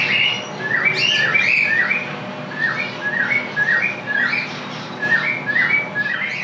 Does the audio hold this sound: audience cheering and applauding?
no